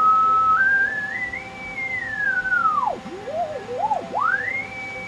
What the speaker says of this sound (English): We hear the difference frequency change.